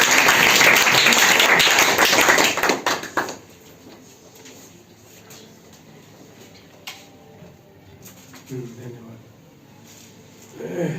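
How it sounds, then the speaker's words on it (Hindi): An audience at a girls' Class 10 prize ceremony at a coaching centre applauds as a student is welcomed, with loud clapping for about three seconds that then drops away into a quiet room with faint scattered sounds. "ताली स्वागत करेंगे"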